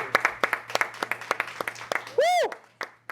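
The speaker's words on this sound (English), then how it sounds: "Let's clap it up for ourselves." A group claps and applauds at a family business gathering, sharp irregular claps scattered throughout with talk and a cheer mixed in, plus a rising whoop near the end.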